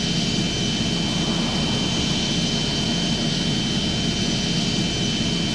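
Airplane engine in the Airplane Flight Simulator Evo game: a steady, loud, broadband jet engine roar with a constant high whine, droning without change throughout.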